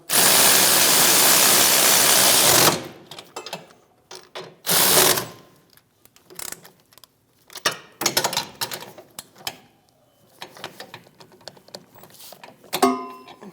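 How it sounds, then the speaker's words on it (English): Ratchet snugging the caliper bracket bolts on a 2016-2025 Chevrolet Malibu rear brake, with a long steady burst of mechanical noise followed by scattered clicks and knocks, close and loud with no talk. "Snug the bolts down."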